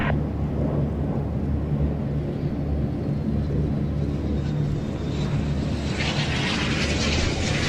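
Red Arrows jets turning final in the circuit at the Royal International Air Tattoo, a loud, continuous rumbling jet roar that swells with a rising high whine toward the end.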